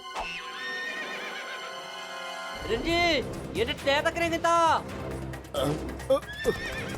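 A cartoon horse gives several loud, shrill whinnies in quick succession over a faint musical bed, each neigh a wavering, high-pitched cry with short gaps between.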